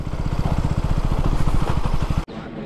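A motorcycle engine while riding through Hyderabad traffic, a steady close pulsing drone with a rapid rhythmic beat, ending in a short break followed by quieter engine noise.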